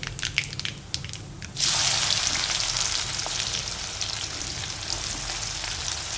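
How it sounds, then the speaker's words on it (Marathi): Chopped onion drops into hot oil already crackling with cumin and mustard seeds for a curd rice tempering; light popping gives way to a sudden loud, steady sizzle that carries on close by without any talk. "त्यानंतर आता कांदा टाकून घ्यायचा आहे"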